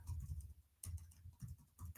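Fingers type on a computer keyboard, a faint, close patter of light key clicks in short irregular bursts with brief pauses.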